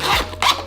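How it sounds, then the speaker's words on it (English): The zipper on a Morphe x Jeffree Star makeup brush case is pulled in two quick, close rasping strokes, short and crisp with no talking. "zipper's okay, and it has like a little Jeffree Star Morphe engraved aspect to it"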